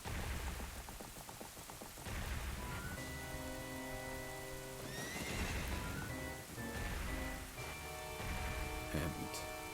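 A horse neighs and whinnies during a dream cutscene in the video game Zelda: Ocarina of Time, set against steady rain and musical tones, with a brief voice heard near the start.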